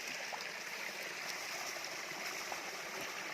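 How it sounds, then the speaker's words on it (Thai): Water rushes and gurgles steadily in a nearby forest stream, a continuous bright babble with no voices. "นี่ครับลำธารครับผม"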